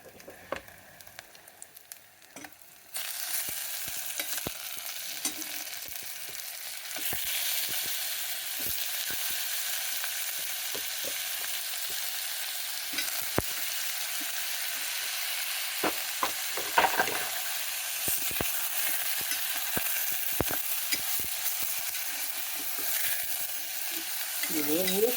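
Mutton frying in a pan with onions, green chillies and ginger garlic paste: a steady loud sizzle starts as the meat goes in, with occasional stirring clinks and scrapes close by.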